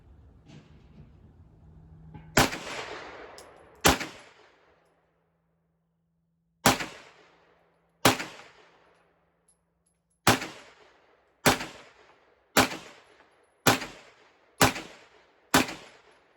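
A Smith & Wesson M&P FPC 9mm carbine fires nine sharp, loud shots outdoors, spaced irregularly at first and then in a steadier rhythm, each crack trailing a short echo.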